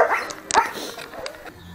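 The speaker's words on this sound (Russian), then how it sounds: "Ну вот это зовут собаку Несси" Dog at a dog shelter giving short barks and whimpering yelps, close and fairly loud, in quick irregular bursts against a quiet indoor background.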